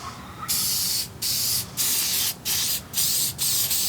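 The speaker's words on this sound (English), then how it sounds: "And you spray the backside of the gasket that goes against it." Spray adhesive hisses from an aerosol can onto the back of a gasket during reassembly of a Ford FE engine, coming in six close, loud bursts separated by brief pauses.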